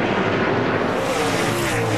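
NASCAR Truck Series trucks race at Martinsville in 2003, a loud continuous roar of engines at full throttle with a shifting pitch as the pack passes close by, with no talk over it.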